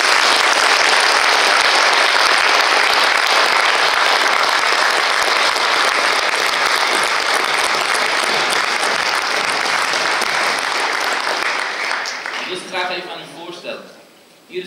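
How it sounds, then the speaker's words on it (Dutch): Sustained, loud audience applause honoring athletes at a design presentation about cycling faster than a cheetah, dense clapping that holds steady for about twelve seconds before thinning out, with a voice starting to talk at the end. "daarom vraag ik een heel groot applaus voor onze atleten van dit jaar, Aniek Rodekerk en Iris Stappendaal."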